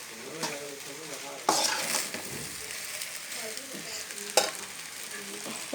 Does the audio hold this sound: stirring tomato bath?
yes